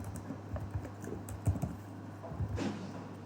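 Keys on a computer keyboard clack in a soft, uneven burst of taps over a low steady hum, quiet and close, with no speech.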